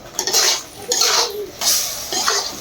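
Spoon scraping and stirring chili powder, seasoning powder and salt as they fry in a pan, in three separate bursts of clinking strokes over a soft sizzle.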